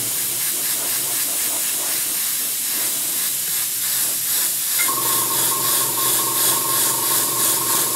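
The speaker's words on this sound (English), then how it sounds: "and then spray the area with the base coat." An airbrush sprays base coat over a 15mm scale model turret through a star and cross insignia stencil, a steady close hiss, with a higher pitched tone joining midway and continuing to the end.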